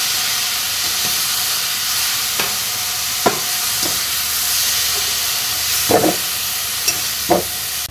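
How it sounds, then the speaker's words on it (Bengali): Prawns fry in a wok with a steady broad hiss and sizzle, broken by several sharp scraping stir strokes and clinks toward the end; no voices. "এখানে আমি চিংড়ি মাছ খুব বেশি ভাজবো না"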